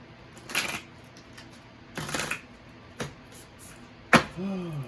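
Tarot cards being shuffled in a few short, crisp riffling bursts spaced over several seconds, fairly quiet and close, with no talking.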